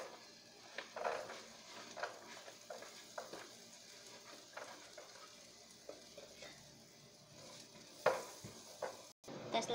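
Garlic frying in butter in a pan for fried rice with egg and ham, a soft continuous sizzle broken by scattered stirring scrapes and utensil clinks against the pan, fairly quiet and close, with no talk.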